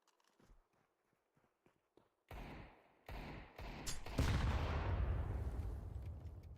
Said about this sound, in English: Nice frag grenade.